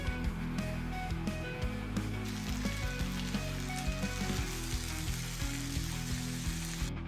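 Patties, sausages cut in half, bacon slices and onions sizzle together on a grill, a steady dense crackle with small pops throughout, close and alone with no talking.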